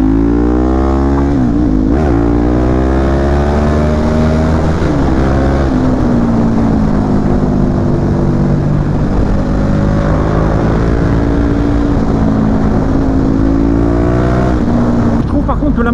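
A KTM RC8 sport motorcycle engine revs loudly and steadily, its pitch rising and falling through several throttle blips, while a person talks over it.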